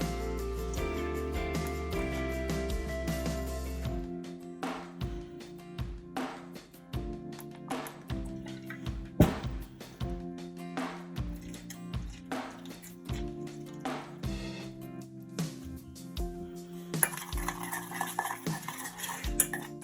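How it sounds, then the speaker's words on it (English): A spoon stirs a spice rub paste of crushed garlic, extra virgin olive oil and lemon juice in a bowl, with soft scraping and clinking against the dish and wet squishing in an irregular rhythm. "I've also added some crushed garlic and I'm going to make a paste with this using extra virgin olive oil and"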